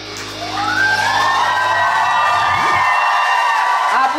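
Audience at an evening dating show bursts into loud, sustained cheering and whoops with clapping underneath after a song ends, the crowd noise swelling quickly and holding steady throughout.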